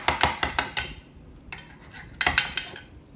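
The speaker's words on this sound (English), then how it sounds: "So I'm gonna take my knife and cut up some of it." A knife clinks and scrapes against a dish while cutting into a baked Georgia-grown vegetable casserole with squash on the bottom, a quick run of sharp metallic taps, a pause, then another cluster of clicks, close and clear.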